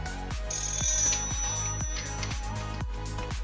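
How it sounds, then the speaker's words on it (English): A phone ringtone for an incoming call plays loudly up close as a repeating melodic pattern of evenly spaced tones, alone with no talking. "Get a phone call."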